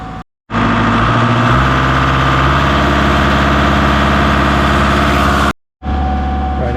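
A farm tractor engine idles at raised RPM to power an alternator charging a Silverado, a steady, loud low rumble that cuts out briefly twice.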